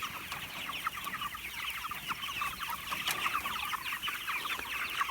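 Pastured poultry cluck softly and continuously while moving across fresh ground. The low, busy chatter from many birds holds steady throughout.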